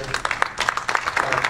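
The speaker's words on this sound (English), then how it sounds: "Let's have a round of applause" Audience at a community preparedness meeting clapping, a short burst of dense applause at moderate distance, steady for a second and a half.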